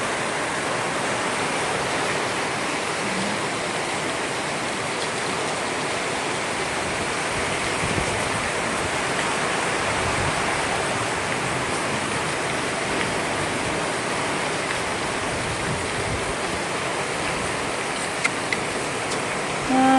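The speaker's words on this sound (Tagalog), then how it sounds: "Ang lakas na sa ulan guys. May dala pa namang hangin." Heavy rain driven by wind pours down over flooded rice paddies during Typhoon Basyang, a steady, dense roar that stays constant throughout with no voices.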